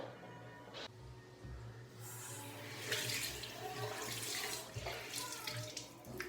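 Tap water runs steadily into a sink while a face is rinsed clean of a scrub and mask, with soft splashing and shifting gurgles close by and no talking.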